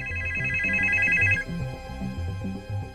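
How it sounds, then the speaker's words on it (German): A telephone bell rings in a rapid trilling burst for about a second and a half, then stops, over a steady background of rhythmic music with no talking. "Plötzlich kam ein dringender Telefonanruf und alle wurden still."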